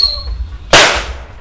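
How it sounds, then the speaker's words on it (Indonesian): A single sharp firecracker bang bursts out after a quiet moment from a firecracker buried in the ground, then its noisy crackle quickly decays. "mercon Tikus Tor dimasukkan dalam tanah"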